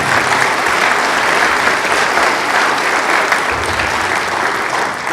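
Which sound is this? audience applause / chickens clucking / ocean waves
audience applause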